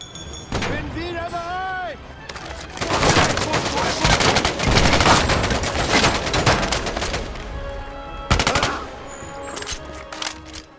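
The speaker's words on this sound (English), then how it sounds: "The gunfights in Medal of Honor can get really hectic sometimes." Dense, hectic gunfire from a World War II VR shooter, Medal of Honor: Above and Beyond, with sustained bursts of automatic fire and shots layered over one another, loud and close, with a voice briefly heard near the start.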